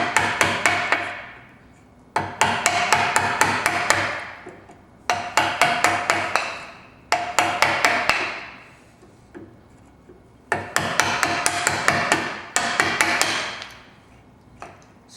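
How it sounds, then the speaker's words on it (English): A chisel tapped into wood while cutting a tee halving joint: clusters of sharp, rapid knocks come in five or six bursts, each separated by a short pause, close and loud. "you have to be careful when you chisel, because if you tap it too hard, then the whole thing could break off easily"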